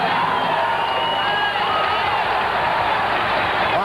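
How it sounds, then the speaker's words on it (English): A large stadium crowd roars and cheers continuously at a 1977 Johns Hopkins versus Maryland college lacrosse game at College Park, a dense, loud wall of massed voices. "This huge crowd is beside itself."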